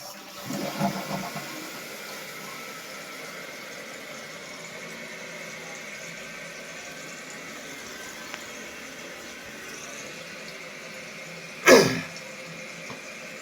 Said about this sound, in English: let's flush it now